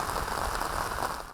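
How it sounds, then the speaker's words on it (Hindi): Steady, soft hiss of light rain falling in Islamabad, a continuous even patter with no voices, fairly close and constant throughout. "इस्लामाबाद में भी रिमझिम जारी।"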